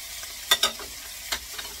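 Onion and ají being stirred in a frying pan while making a chambre, with a few distinct scraping strokes over a soft sizzle, close and fairly quiet.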